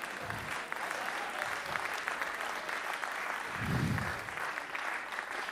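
A comedy show audience in Taranto claps in sustained applause, dense and even, with a low murmur rising briefly partway through.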